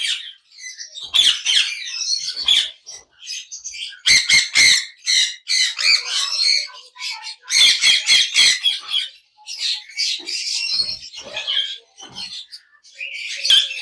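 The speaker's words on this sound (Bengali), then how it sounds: "যারা অনেক দিন ধরে ভালো মানের ব্লু রিং কে পাখি চাচ্ছেন" Blue ring-necked parakeets squawk and chatter in repeated harsh, shrill bursts, fairly close and loud, with short pauses between clusters of calls and no talking.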